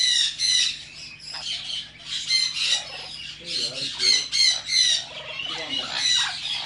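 Exotic pet birds at a bird shop squawk loudly and repeatedly, shrill calls overlapping in a busy, close chorus with a faint voice underneath.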